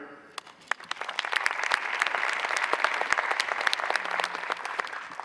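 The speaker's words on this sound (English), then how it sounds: "A big hand, please." Audience at a plenary session applauds a presenter: dense, sustained clapping from a crowd, starting lighter with a few scattered claps and swelling into steady applause in a large room.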